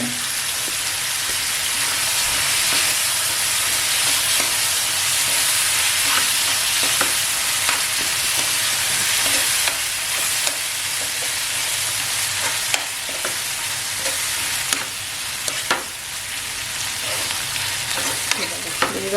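Squid tawa fry masala sizzles steadily in a dry pan while being stirred, a dense continuous frying hiss with scattered scraping clicks from the spatula throughout, close and fairly loud, no voices.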